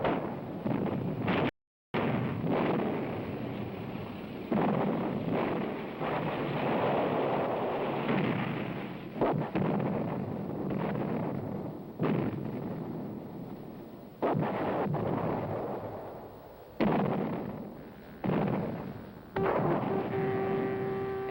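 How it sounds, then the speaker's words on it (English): A WWII mortar barrage in the Battle of Italy, with dense rumbling blasts and rolling booms that merge into a continuous heavy roar, broken by sharp louder impacts and one brief silent gap. "British infantry advances alone under the barrage of mortars."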